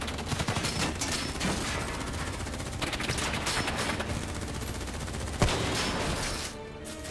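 Dense, continuous gunfire from a Call of Duty Black Ops 3 firefight, with rapid overlapping shots and bursts filling the scene and one sharp louder crack near the end.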